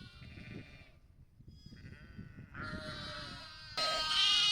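Flock of about 150 sheep and 60–70 spring lambs bleating in front of an off-grid cabin, a steady overlapping chorus of calls growing louder and denser toward the end, with no talking.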